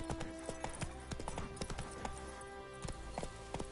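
Hooves of Roach, Geralt's horse in the video game The Witcher 3, clip-clop in a steady repeated rhythm of sharp strikes over a constant low ambient bed.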